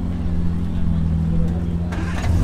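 A manual Aston Martin sports car with 600 brake horsepower rumbles low and steady as it pulls away at a car show. Voices talk over the engine's deep drone.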